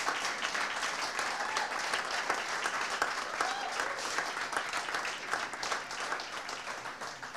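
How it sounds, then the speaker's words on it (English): Audience applause at a convention speech: a round of clapping from a seated crowd, dense and continuous for several seconds, heard from some distance and fairly quiet overall. "Abhinav needs a round of applause from you"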